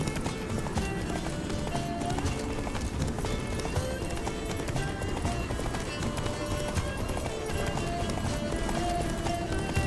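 Horse hooves clatter in a steady, continuous clip-clop rhythm as the mount runs in The Witcher 3, fairly loud and dense throughout, with game music and ambience mixed underneath.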